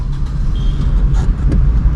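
A car accelerating in traffic, heard as a loud, close, steady engine and road rumble from inside the vehicle, with no voices.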